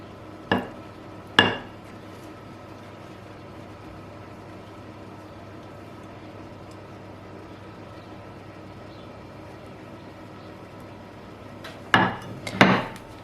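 Fried eggplant with onion and garlic being stirred in a pan: a few sharp scraping knocks of a utensil at the start and a cluster near the end, with quiet background in between.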